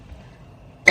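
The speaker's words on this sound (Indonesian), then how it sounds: "Batuk," A single short, sharp cough from a person during a tarot card reading, bursting out near the end after a second of quiet room tone.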